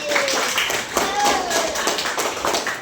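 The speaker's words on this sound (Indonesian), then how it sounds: "Tepuk tangan dulu nah" Classroom hand clapping by pupils after a lesson on Surah At-Tin, scattered claps mixed with children's voices and talk, fairly close and lively.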